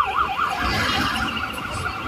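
An ambulance siren wails in a steady rising-and-falling cycle through urban traffic in Jaboatão dos Guararapes, Brazil, heard at moderate distance over a continuous low rumble of vehicle engines.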